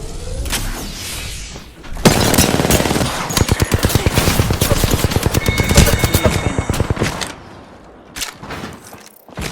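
Video game shooter gunfire: loud rapid automatic bursts crackle close up for several seconds, with mechanical clicks and effects around them, no talking.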